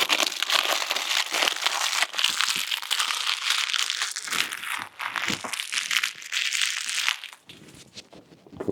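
Plastic packaging for a Ulanzi VL49PRO video light crinkles and crackles continuously up close as it is unwrapped and crumpled, loud and busy for several seconds before easing off.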